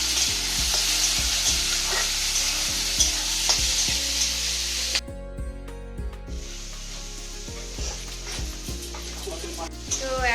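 Country chicken curry cooks in a pan with a steady sizzle, and a spoon stirs it in repeated rhythmic scrapes. About halfway through the hiss drops sharply, then the stirring goes on at close range.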